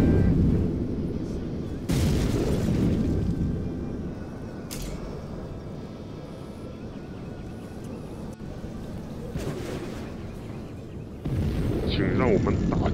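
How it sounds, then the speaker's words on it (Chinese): A tactical nuclear weapon launches in the Contra video game, heard as loud, booming, rumbling blasts with sharp bursts near the start, middle and end, under in-game voices and constant battle noise. "战术核武器发射"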